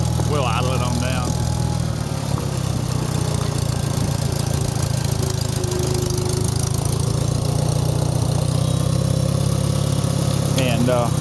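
A 1973 IH Farmall 140 tractor engine idles with a steady low, throbbing rumble close by, with brief bits of speech near the start and end.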